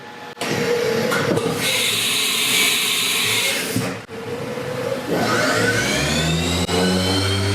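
A milling machine cuts a part for a Wall-E robot build, its motor and spindle whirring loudly and steadily with a brief dip midway, then rising in pitch as the spindle speeds up near the end.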